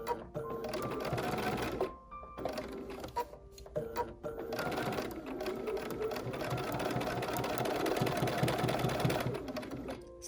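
A sewing machine stitches a pumpkin-shaped trivet in short bursts, its motor whirring loudly up close, pausing briefly and restarting, then running steadily toward the end.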